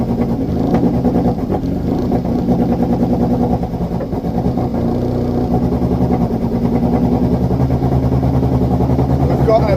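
A Ferrari race car engine at Brands Hatch runs loud and steady with a misfire during a trackside noise test, its uneven mid-range drone holding for several seconds.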